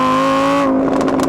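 Audi R8 Gen 3 V10 with a restrictive stock exhaust holds a loud, steady high-pitched rev, then drops off into rough, crackling burble close by.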